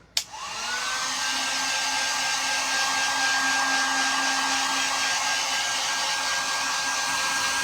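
A hair dryer clicks on and settles into a steady, close whooshing hum with a faint high whine, running without pause to dry fresh paint on a Dollar Tree bag.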